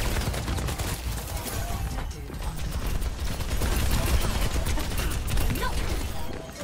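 Dense, continuous gunfire during an Overwatch 2 match, rapid shots layered with game effects at steady loudness, with a voice talking over parts of it.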